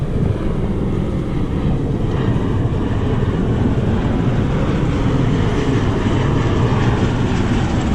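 V-22 Osprey tiltrotor aircraft pass over open water off the coast near Catalina, giving a steady, loud, broad rumble that holds throughout with no talk.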